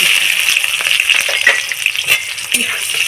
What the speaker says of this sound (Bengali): তারপরে আমি দিয়ে দিচ্ছি পেঁয়াজ